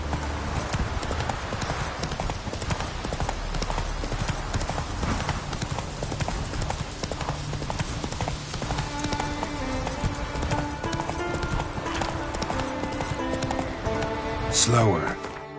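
Horse hooves clip-clop at a steady galloping rhythm through most of the stretch in The Witcher 3 on deathmarch difficulty, loud and continuous with game music and effects layered underneath.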